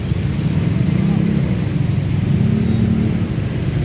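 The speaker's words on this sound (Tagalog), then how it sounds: "mabigat pa rin ang daloy ng traffic. Yan yung mga sasakyan papuntang monumento." Heavy traffic flows along EDSA road in a steady, close, low roar of engines, with a faint high squeal briefly cutting through.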